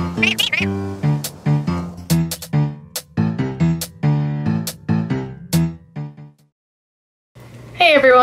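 Cartoonish cat meows from the cozy tea-house simulation game Pekoe, a rapid run of bright, expressive mews with background music, pausing briefly before a final meow at the end.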